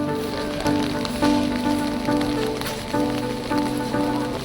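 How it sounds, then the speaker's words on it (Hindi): Heavy rain pouring down at Kedarnath, a steady broadband hiss of drops hitting surfaces, with pulsing tonal hums and low rumbles running underneath throughout. "बारिश जोरों से अभी शुरू हो गया है।"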